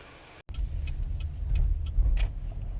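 A Chevy Impala under repair for a traction control grinding noise pulls out of a driveway, a low engine rumble swelling after a brief cut, steady and close with faint clicks and rattles over it.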